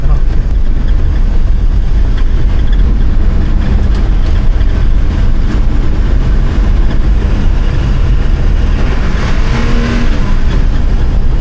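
An old truck, back on the road after nearly fifteen years, roars loudly and continuously with its throttle cable stuck, the engine holding high revs throughout, with voices partly buried beneath it.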